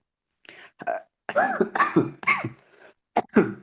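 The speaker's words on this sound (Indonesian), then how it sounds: "Ana agak batuk ini." A run of harsh, throaty coughs in several bursts, fairly close, with short pauses between them and no talking.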